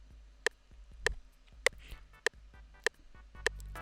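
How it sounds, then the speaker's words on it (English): Six evenly spaced crisp clock ticks from an FL Studio metronome at 100 BPM, dry and close over a quiet background. "would hit on every single time you hear the clock tick"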